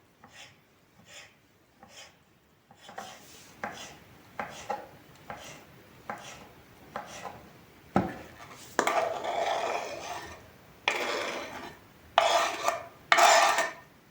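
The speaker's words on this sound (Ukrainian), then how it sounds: "Розрізаю повздовж навпіл і нарізаю ось такими кусочками." A knife cuts repeatedly on a board, slicing crab sticks lengthwise and into small pieces, starting with soft rhythmic slices and ending in louder, rasping cuts.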